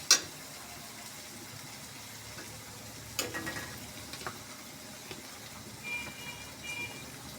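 Quiet sizzle of fish roe frying in a pan with bitter gourd, broken by a few soft scrapes and clinks of stirring, mostly low and faint.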